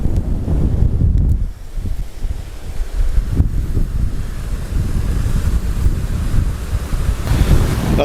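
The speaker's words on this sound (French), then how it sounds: "on voit bien le débit de l'eau" Fast river water running high during a small flood at Conques-sur-Orbiel, heard from an iron footbridge: a loud, continuous roar of rushing water with gusty wind buffeting the microphone and no talking.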